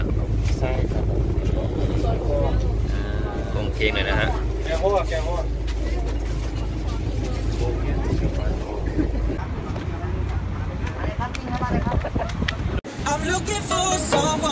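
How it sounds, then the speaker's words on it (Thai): Boat crossing from Koh Larn back to Pattaya, a constant low engine drone with heavy wind buffeting the microphone and water rush, someone talking briefly over it before an abrupt cut. "ขากลับเราก็สามารถแบบนั่งเรือจากตรงนี้เลยเพื่อไปที่พัทยานะครับ"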